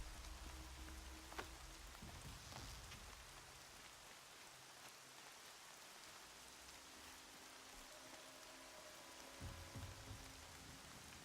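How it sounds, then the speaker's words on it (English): Steady rain in the game Horizon Zero Dawn falls evenly across the whole stretch, a soft continuous patter with a few louder drops and low rumbles beneath. "Rain's not so bad."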